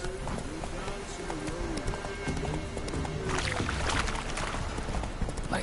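Horse named Roach galloping in a video game, a quick steady clip-clop of hooves under game music and sound effects, with a brief rumble of thunder.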